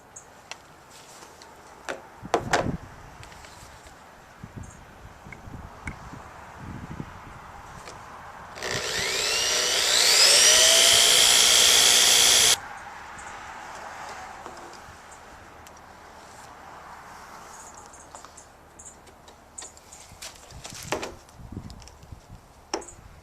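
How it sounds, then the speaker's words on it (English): Power drill boring a hole in a plastic shower barrel, a loud steady whine lasting about four seconds between quieter handling clicks and rustles. "And I'm going to drill a hole right about there."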